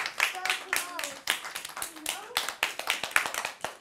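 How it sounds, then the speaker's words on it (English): Children in a classroom clap together in a quick burst of sharp, uneven hand claps, with voices talking over them throughout. "Give her a clap."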